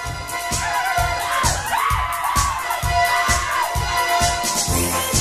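Wedding party crowd cheering and whooping for the children over loud, steadily thumping dance music with a regular beat, dense and continuous throughout.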